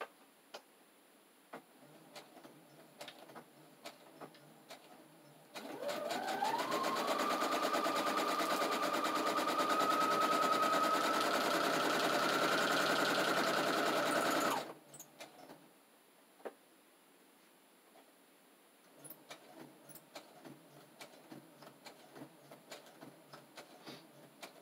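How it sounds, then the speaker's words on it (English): A Brother sewing machine whirs into a fast, steady straight-stitch hum through magazine pages for about nine seconds, then stops, with light ticks and clicks before and after. "give me a second to run this through the sewing machine"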